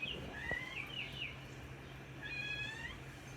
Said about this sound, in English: if y'all hear the cat, don't mind the cat